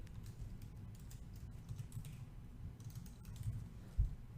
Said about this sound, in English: So you can type that here yourself,